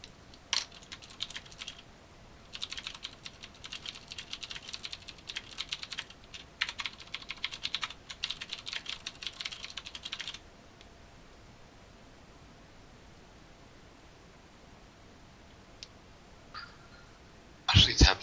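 Loud computer keyboard typing in rapid bursts of clacking keystrokes during a livecoding session on server and client development, running for about ten seconds and then stopping, with a brief louder clatter near the end.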